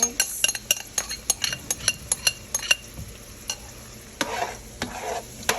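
Eggs, onion and butter fry on a home hibachi griddle with quick, rhythmic metal spatula clinks and scrapes over a soft sizzle. The clatter comes close and sharp, then gives way to looser stirring. No voices.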